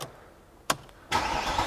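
An Abarth 124 Spider cranks with a short click, then fires up and settles into a loud, steady idle close by, after a quiet pause.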